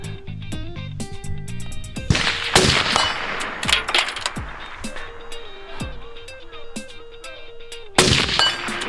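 Rifle shots ring out on an outdoor range against steel targets at 100 yards, sharp cracks followed by metallic clangs, several spaced impacts with some music-like tonal sound underneath.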